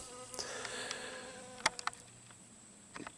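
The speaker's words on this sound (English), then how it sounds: "training honeybees to eat your sweat" Honeybees buzz around an outdoor spot where sweat-soaked clothes hang on a clothesline, a faint steady insect hum broken by a few short close passes and sharper buzzes.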